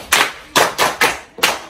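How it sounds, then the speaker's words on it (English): A classroom of pupils claps together for a girl who answered a question, five sharp, loud group claps in an uneven rhythm with short gaps and no talking over them. "Clap for her."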